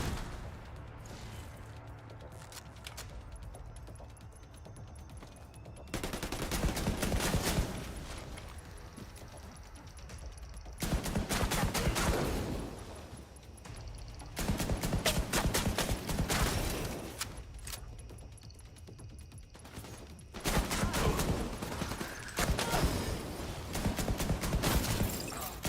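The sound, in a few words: gunfire from the video game The Division 2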